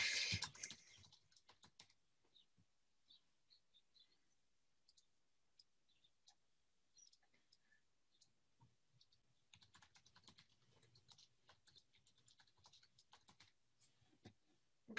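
Fingers type on a computer keyboard in quiet surroundings, bursts of soft irregular key clicks with brief pauses, growing denser toward the end.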